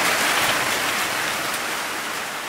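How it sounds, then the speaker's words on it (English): Heavy rain pours down steadily by Brazil's Black River, a dense continuous hiss close by with no voices, holding loud and even throughout. "you guys can also see how fast it's gonna rain, very heavy"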